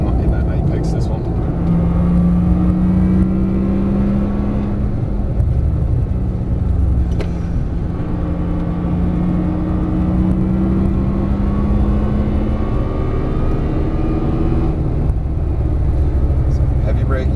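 Porsche 911 Turbo S on a track, engine droning steadily under heavy throttle with a rising whine and rumble throughout, heard from inside the cabin as someone talks over it.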